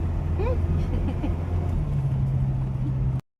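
A car climbing the Malico zigzag road, its engine a steady low drone with a rising tone in the second half, close and continuous under people talking in the cabin.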